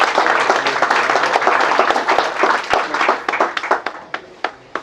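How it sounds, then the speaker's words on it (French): An audience applauds at an entrepreneurship event, a dense steady wash of clapping that thins toward the end into a few scattered, distinct claps. "On applaudit pour notre maman."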